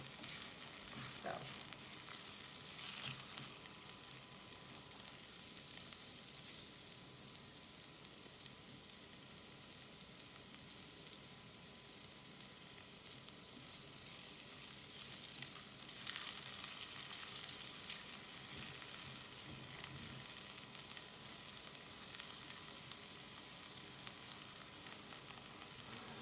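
Garlic, ginger and green chilies sizzling in coconut oil in a pan, a steady close crackling fry with occasional stirring scrapes and brief louder spits, continuous throughout without speech.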